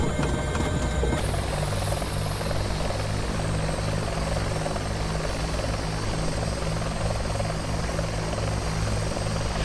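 Loud, constant Bell 412 helicopter engine whine and rotor drone in the X-Plane 11 flight simulator, with a brief change in tone near the start, then an even roar throughout.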